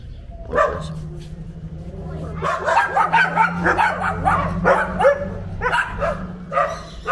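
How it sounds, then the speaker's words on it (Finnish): Several dogs, among them a large husky and three smaller ones, bark and yip in quick, uneven bursts from a rooftop in Mazatlan, Mexico, loud and fairly close, with voices talking now and then. "legendaariset meksikolaiset kattokoirat, niitä on joka puolessa."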